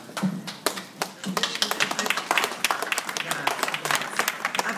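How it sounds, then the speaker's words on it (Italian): An audience claps through a local political event for a mayoral candidate, dense irregular hand claps filling the space, with a voice briefly speaking under the applause near the start. "Applaudite pure quanto volete"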